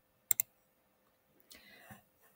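Two quick, sharp computer mouse clicks close together at the start, then quiet handling noise, while navigating a bioinformatics web portal.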